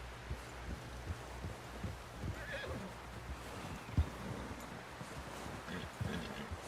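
Horse in the Red Dead Redemption 2 video game, a whinny with snorts and hoof clip-clop amid rustling ambience, moderately faint and steady throughout.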